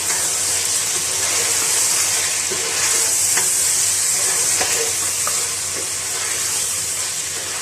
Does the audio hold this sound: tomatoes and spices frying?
yes